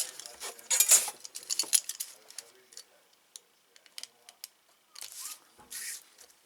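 Paper is cut to make a slot in a junk journal gatefold folio, heard as close, crisp scratchy bursts and light ticks with pauses between them, with some quiet talk.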